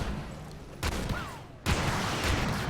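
A tank fires a missile in the Armored Warfare video game, heard as bursts of booming gunfire with a brief whistling streak between them, loud and close, with no speech.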